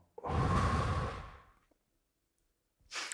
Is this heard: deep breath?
yes